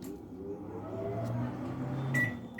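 Samsung microwave oven running in grill mode, a low steady electrical hum with a faint mechanical drone, moderately close and continuous, with a couple of soft clicks and no speech.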